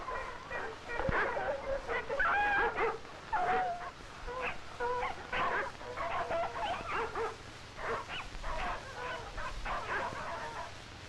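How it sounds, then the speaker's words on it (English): Sled dogs hauling a sled through snow in northwest Alaska bark, yip and whimper in repeated bursts, fairly close, over a faint background. "the dogs have difficulty hauling the sled"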